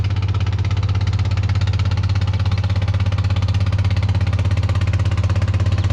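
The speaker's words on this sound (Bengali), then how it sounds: "এই নদী দিয়ে ছোট বড় অনেক ধরনের ট্রলার, স্টিমার, নৌকা, বলগেট" A river trawler or steamer engine runs loud and close, a constant low droning throb with an even rapid pulse that holds steady throughout, with no voices.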